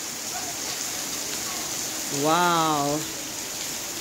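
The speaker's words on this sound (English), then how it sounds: "I am filming from my balcony and it's raining" Steady hiss of rain falling outside a balcony in Jamaica, a continuous broadband wash of nearby drops, with a voice briefly exclaiming partway through.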